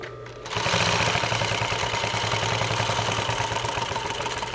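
A sewing machine stitches a French seam, starting after a brief pause with a steady, close, continuous whirring clatter that holds an even rhythm throughout.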